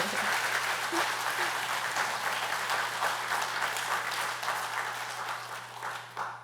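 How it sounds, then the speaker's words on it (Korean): A congregation at a Won Buddhist Sunday dharma talk applauds together, a full, even round of clapping that holds steady before tapering slightly toward the end, with a low steady hum underneath. "박수 한번 칠까요?"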